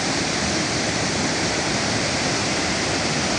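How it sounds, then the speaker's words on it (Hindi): Umbrella Waterfall pours in a steady, loud, broadband roar of falling water, constant and close with no pauses or voices. "ये है जी अम्ब्रेला वाटरफॉल।"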